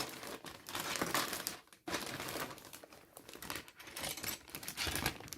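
A sealed plastic bag from an AMT Gigantics Colossal Mantis model kit crinkles and crackles up close as it is torn open and handled, a dense, continuous rustle with a brief pause midway.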